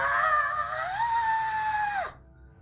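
A single sustained scream with a wavering high pitch that falls away sharply at the end, loud and clear for about two seconds before dropping off, heard alone with no talk over it.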